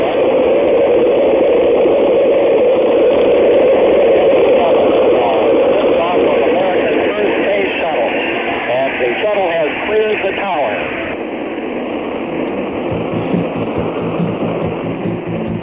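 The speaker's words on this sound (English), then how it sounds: "That's how it sounded just before 1 o'clock as Columbia lifted off." Space Shuttle Columbia's first launch, STS-1, heard through a narrow-band radio broadcast: a continuous loud rumbling roar fills the channel while a voice talks over it, and the roar eases slightly toward the end.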